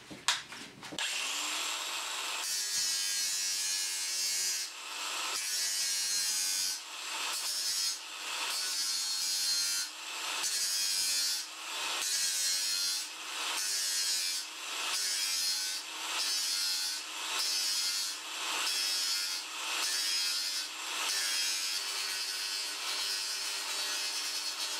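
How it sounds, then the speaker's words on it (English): An abrasive sanding disc grinds a chamfer onto the edge of a plastic soil pipe. The bright, steady rasping rises and falls in regular pulses as the pipe is turned, with no talking. "So I've actually got a sanding disc in there, which is quite abrasive."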